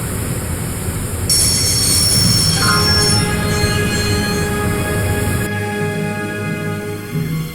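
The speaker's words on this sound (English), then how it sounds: "I'd always wanted to stop a train, and now was my chance." A loud, sustained metallic squeal of train wheels braking in a video game, with a heavy rumbling underneath and several high whining tones that shift as the train slows.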